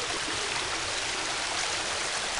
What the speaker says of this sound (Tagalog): Ayan, dito na kami sa falls.